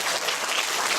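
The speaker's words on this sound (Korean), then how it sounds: "박수 좀 보내주셔도" Audience applause at an Incheon social welfare council 30th anniversary talk concert, a steady dense wash of clapping filling the whole second without voices.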